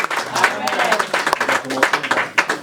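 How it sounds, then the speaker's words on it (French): A church congregation claps in a brief burst of quick, sharp applause at a celebration and hall inauguration, with voices calling out amid the clapping. "On acclame."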